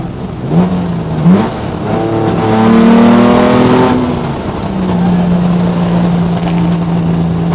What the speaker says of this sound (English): this Jag E-Type lightweight has an enormous amount of power. It is ready for racing, touring.